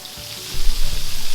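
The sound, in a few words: pork chop pan frying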